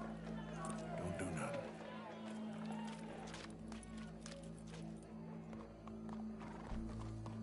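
In a PS4 video game, a horse whinnies and its hooves clop and scuffle nearby over a low, steady ambient drone and game music, with a short deeper thump near the end.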